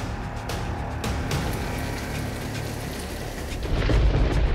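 Heavy monsoon rain falls in Uttarakhand in a dense, loud roar, broken by sharp cracks of thunder early on and a deep rumble building toward the end.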